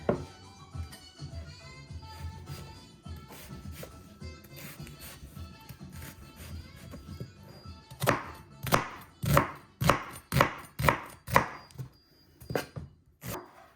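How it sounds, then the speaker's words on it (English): A knife chops an onion on a board, faint quick taps at first and then a louder, rapid run of close chopping strokes. "I'm gonna chop up my onion."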